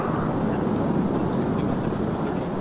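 The Starlicker aircraft taxis at the 1995 Cranbrook International Airshow, its engine a loud, continuous broadband drone held steady and fairly close throughout.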